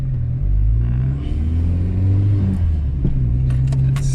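A Mk3 Golf GTi with a 1.8 turbo engine drones loudly and steadily while driving, a deep close rumble whose pitch shifts partway through as the revs change.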